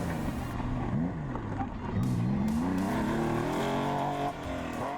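A Jägermeister Porsche classic rally car at full attack on an East African Safari stage, engine loud and near, revving hard with rising and falling pitch through gear changes.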